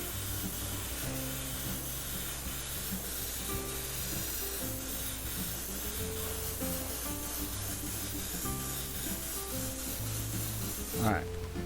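An airbrush sprays Createx paint onto a pilot face guard in a steady, continuous hiss that runs throughout under a constant background hum.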